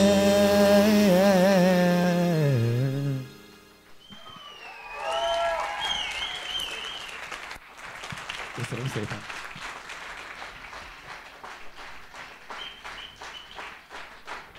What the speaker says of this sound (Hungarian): a közönségnek meghozták itt a produkciókat, tapsolni való kedvét